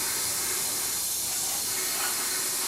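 Degreaser sprayed from a can onto a camper van headlight surround, a continuous loud hiss that runs without pause, close to the microphone.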